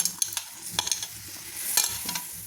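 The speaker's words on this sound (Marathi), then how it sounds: "हे असं हलवत राहायचं म्हणजे हा गुळ वितळेल" Close spatula scrapes and stirring strokes in a pan of melting jaggery with Indian gooseberry, over a soft continuous sizzle, with repeated sharp scraping accents.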